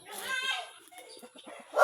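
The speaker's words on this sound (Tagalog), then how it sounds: "palibot diri mga manok" Fighting-breed chickens cluck briefly and nearby, a short burst of fowl calls followed by quieter scattered sounds and a sudden louder noise at the end.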